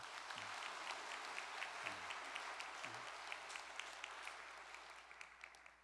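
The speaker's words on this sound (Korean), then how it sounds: "우리 이 목사님께 큰 감사의 박수를 한번 보내십시다." A church congregation gives thanks with a warm round of applause, a steady dense clapping in a large room with a low hum beneath and a few soft knocks.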